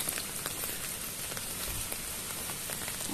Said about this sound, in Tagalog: Maulan na araw.